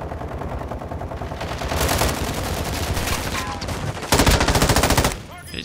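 Automatic gunfire in Call of Duty Modern Warfare II Plunder mode rattles in rapid continuous bursts, swelling louder around the middle and peaking in a dense volley near the end before cutting off.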